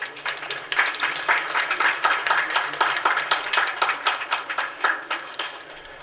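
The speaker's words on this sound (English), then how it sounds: "Let's give a huge round of applause." Audience applause at a school cultural event, a steady, dense patter of many hands clapping at moderate loudness, sustained for several seconds without voices.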